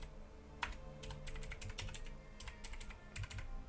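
Quick bursts of clicking keystrokes on a computer keyboard, typed in short irregular runs with brief pauses, close and quiet.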